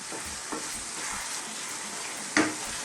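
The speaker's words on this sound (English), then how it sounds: "stir fry it for about, I don't know, 3 or 4 minutes on a kind of lively heat again" Mushrooms being stir fried in a pan over lively heat, a continuous low sizzle broken by a few light stirring scrapes and one sharp clack of a utensil against the pan near the end.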